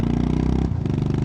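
A Honda GB350S single-cylinder motorcycle thumps steadily under throttle, its loud, close, low-pitched pulsing beat shifting slightly partway through, with no talk.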